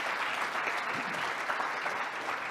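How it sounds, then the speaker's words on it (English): An audience at a tech conference talk applauds steadily, a dense wash of clapping that stays even from start to finish. "So please join me in giving Taylor a huge round of applause."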